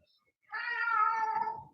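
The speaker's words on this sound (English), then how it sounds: "There's my cat, Spencer." A pet cat named Spencer gives a single drawn-out meow lasting about a second, clear and fairly close, in an otherwise quiet room.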